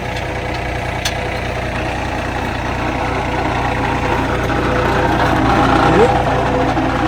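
John Deere 3025E compact tractor engine running steadily during dirt work, a continuous low rumbling drone that holds level and swells slightly toward the end.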